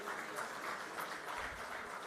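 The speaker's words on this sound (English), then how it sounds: "Please, a round of applause for him." Steady, even applause from a large audience at the NAREDCO Foundation Day event, a continuous soft roar of clapping heard from some distance without talk.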